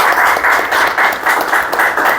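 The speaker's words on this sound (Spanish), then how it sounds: "Así que un fuerte aplauso" An audience at a conference event claps loudly and continuously, with a rhythmic, pulsing texture that suggests many hands in loose unison.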